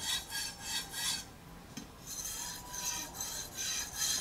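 A Shun Premier chef's knife being sharpened, with quick rhythmic rasping strokes in bursts, a short pause in the middle, then steady strokes again, close and fairly loud.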